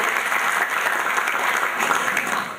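Steady audience applause fills a round-table session at an engineering school's company forum, dense and sustained clapping from a sizable crowd throughout, easing slightly at the end.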